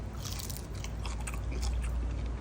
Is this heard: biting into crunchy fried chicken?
yes